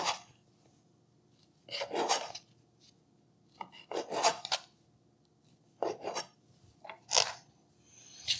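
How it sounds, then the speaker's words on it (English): Crust being cut off a loaf of Italian bread, several separate dry rasping, crunchy sawing strokes close by, each a second or so long with quiet pauses between. "So I'm going to take the crust off here."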